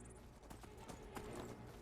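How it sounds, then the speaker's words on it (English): A horse's hooves clip-clop in a rapid galloping rhythm in the Skyrim VR game, fairly faint, with soft voice-like sounds mixed in and no clear neigh. "Is the horse after me?"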